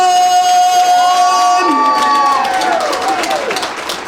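A large crowd at a boxing banquet cheers and applauds loudly, with whoops rising over the roar and a sustained tone fading out as the noise continues.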